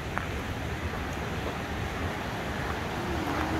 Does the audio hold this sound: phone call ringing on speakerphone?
no